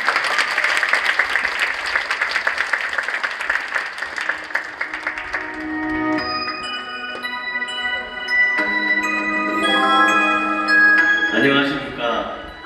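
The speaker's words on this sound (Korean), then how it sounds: "여러분 큰 박수로 맞이할까요?" Audience applause welcoming a children's choir at a multicultural choir competition, a sustained crowd clapping that fades after several seconds into instrumental music with bell-like tones.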